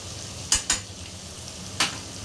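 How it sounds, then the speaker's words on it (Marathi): Ginger-garlic paste frying in hot oil for biryani, a soft steady sizzle with three sharp scraping stirs of a spoon against the pan, two close together early and one later, no talking. "आलं लसूण पेस्ट टाकता अर्धा ते 1 मिनिट आपण तेलामध्ये व्यवस्थित परतून घ्यायचे आहे।"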